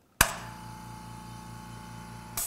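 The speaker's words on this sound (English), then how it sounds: "that's running. That is Hitachi's new EC28M portable 1-gallon air compressor" Hitachi EC28M portable 1-gallon ultra-quiet air compressor humming steadily at a low, even drone after a sharp click at startup, with another click at the end; quiet and close.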